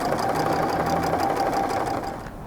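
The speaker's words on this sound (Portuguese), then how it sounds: "vou passar uma costura nessa extremidade" A sewing machine runs a continuous stitching burst along the edge of a patchwork courthouse-block table runner, a fast, even mechanical whir close up that slows and stops near the end.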